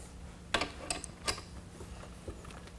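Metal scope ring being turned into a rifle's dovetail mount with a wrench, giving a few soft, scattered clicks and scrapes spaced apart in a quiet room.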